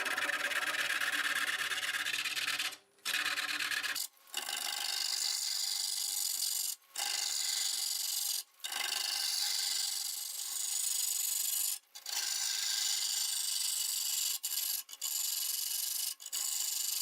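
A lathe tool scrapes steadily into a large spinning English walnut blank at about 590 RPM, giving a continuous loud rasping cut broken by several brief pauses.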